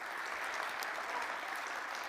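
An audience at a township State of the Township address in a hall claps in steady, dense applause, faint and somewhat distant, with no voices over it.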